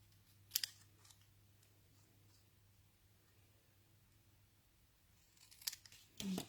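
Paper being trimmed with scissors for a handmade card, a couple of crisp snips near the start and a louder cluster of cuts at the end, quiet handling in between.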